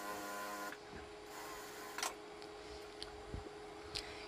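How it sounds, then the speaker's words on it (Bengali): A sewing machine stitches a folded hem on printed kurti fabric, running as a steady mechanical whir with a few light clicks and taps over it. "এরপর আরেকটা ভাঁজ দিয়ে নিচের দিকে হ্যাম সেলাই করে নিচ্ছি"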